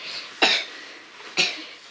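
A young girl coughs twice, each a short sharp burst about a second apart, close to the listener in a quiet room with faint background hiss.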